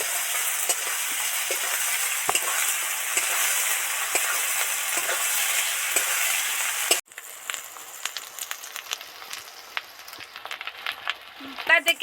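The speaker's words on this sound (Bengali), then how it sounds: "মশলা থেকে সুন্দর করে তেল ছেড়ে গেছে বন্ধুরা, বুজবুজ করছে, সুন্দরভাবে ভাজা হয়ে গেছে।" Ground spices with chilli, cumin and coriander fry in oil in a pan with a loud, dense, steady sizzle, which drops abruptly to softer crackling and bubbling pops.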